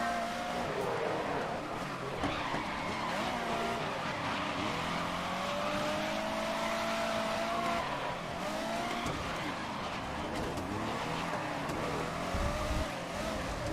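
Racing cars in the Grid video game, including white cars with gold wheels, roar continuously with engine whine and tire skids throughout, steady and loud with no pauses.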